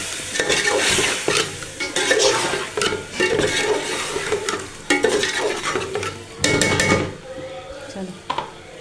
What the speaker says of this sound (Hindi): चलो अब ये थोड़ा सा फ्राई होगा